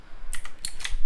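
Quick clicks of a computer keyboard being typed on, a few short bursts of keystrokes at close range with no voices.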